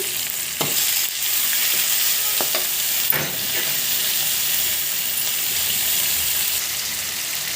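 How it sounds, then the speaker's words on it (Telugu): Onions and chopped tomatoes frying in a pan for puffed rice upma, a steady close sizzle broken by a few clinks of stirring, with no talk. "ఆనియన్స్ చూడండి ఇలా వేగితే సరిపోతుంది కట్ చేసుకున్న రెండు టమోటాలని వేసుకోండి"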